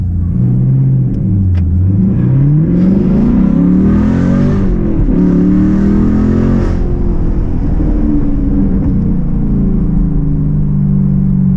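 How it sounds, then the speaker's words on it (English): A 2020 Camaro SS 1LE launches hard and pulls through first gear into second. The engine roars loud and close inside the cabin, rising in pitch, dipping at the shift, then climbing again before it settles. "I'll launch it aggressively, and maybe grab second gear."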